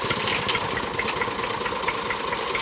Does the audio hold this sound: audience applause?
no